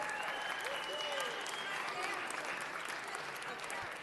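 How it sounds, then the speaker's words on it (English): Steady, dense applause from a city council meeting audience honoring champions from San Fernando, filling the room at an even level throughout with some voices mixed in. "give another round of applause."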